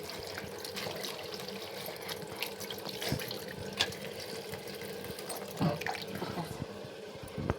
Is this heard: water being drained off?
yes